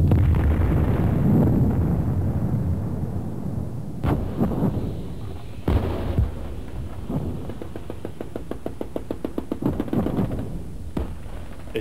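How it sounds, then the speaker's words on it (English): A Bangalore torpedo detonates during a 1986 U.S. Army engineer demolition exercise, heard as a loud, deep rumbling boom at the start followed by sharp bangs, a long rolling tail and a rapid run of crackling reports. "A squad returned to the explosion site in its APC right after the blast."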